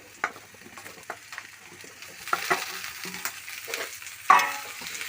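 Raw banana pieces and reddened fried onions are stirred in a pan, with scattered spoon scrapes and soft sizzling that build to one sharper knock near the end, close by and with no talking.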